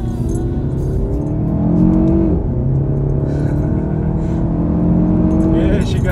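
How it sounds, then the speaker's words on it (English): Alfa Romeo Giulietta Quadrifoglio heard from the cabin, its engine pulling loud and steady through rising revs with a gruff induction note, one brief gear-change dip, and someone talking over it. "get a nice induction bark coming into the cabin that means when you're driving the car does sound fruity enough"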